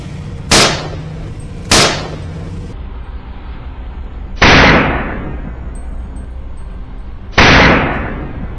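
Gunshots fired at a wild boar in a swamp, four loud sharp cracks spaced a second or more apart, the later two ringing with a longer decaying echo.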